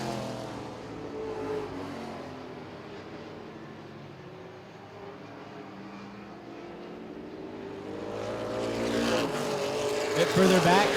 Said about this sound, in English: Bit further back, Cook trying to find his way around the 5 machine of James.